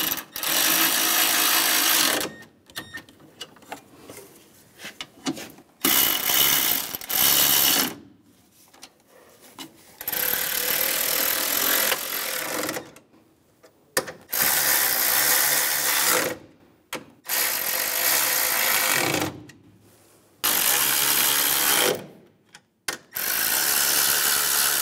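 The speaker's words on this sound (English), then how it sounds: "now we can tighten them all down" A power ratchet tightens bracket screws on an AC condenser of a 2006-2009 Mercedes-Benz E350, coming in repeated loud buzzing bursts of a few seconds each, separated by brief quiet gaps, close to the listener.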